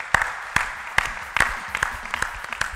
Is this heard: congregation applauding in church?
yes